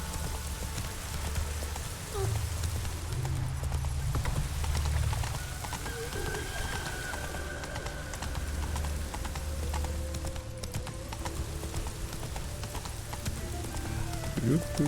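Horse hooves clip-clopping in The Witcher video game, a rhythmic galloping beat under rain-like patter, with a voice speaking at times.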